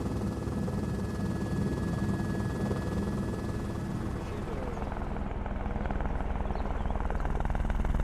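A helicopter flies over the Mont Blanc massif, its steady, moderately distant rotor and engine drone filling the whole stretch, with a voice speaking over it.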